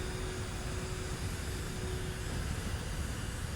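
A plane's engine drones in flight in Kerbal Space Program 2, a steady, even hum at low volume with no other sounds over it.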